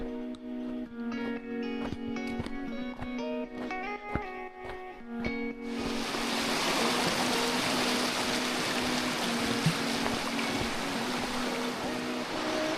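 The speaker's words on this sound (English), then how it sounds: "Still, you can hear the river going." A river flows near a campsite beside a swing bridge. After a few seconds of tonal sound, a steady, broad rush of water takes over and continues unbroken.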